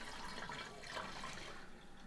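Cold water pours steadily into a container to dilute homemade kombucha, a continuous broad rushing splash that stays even throughout and eases slightly at the end.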